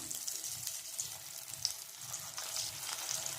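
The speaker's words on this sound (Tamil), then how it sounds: "எண்ணெய் காந்துச்சு ஒவ்வொன்றா போட்டு எடுத்துக்கலாம்" Ration rice vadas frying in hot oil, a steady close crackling sizzle with soft low bubbling pulses throughout, no talk.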